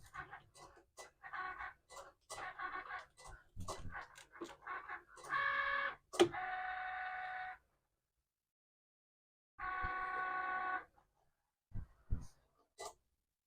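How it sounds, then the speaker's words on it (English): A Cricut machine cuts stencil vinyl for glass etching, putting out several bursts of steady whirring motor hum broken by clicks and short pauses, close-up and fairly quiet, with a long stop before the last run. "And then I just load it into my Cricut machine."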